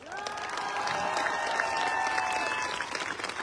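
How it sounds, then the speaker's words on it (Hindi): Audience applause fills a lecture hall at a motivational talk in Lucknow, a continuous crowd clapping under a few held tones that fade out after a couple of seconds, with no speech. "ताली बजाओ ढंग से।"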